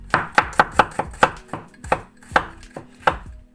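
A knife chops fresh garlic into small pieces on a cutting board, giving about a dozen sharp, close knocks in a quick, slightly uneven rhythm.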